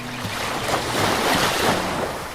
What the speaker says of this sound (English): enjoy the sound of the waves crashing against the rocky shoreline